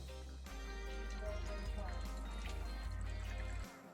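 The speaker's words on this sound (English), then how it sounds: "There's the water coming in." Water fills the bottom ice maker of an LG refrigerator, with a loud, steady low hum from the inlet under a faint trickle for about four seconds before cutting off.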